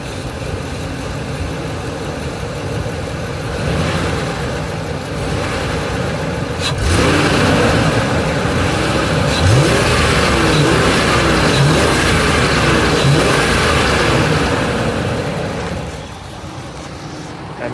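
Ford F150 engine idling and revving up with a sensor unplugged, a loud, steady close-up drone that rises in intensity midway and drops back near the end.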